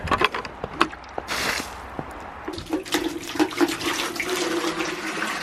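Water splashes and pours into a container, rushing steadily after a few clanks and knocks, fairly close with some outdoor background.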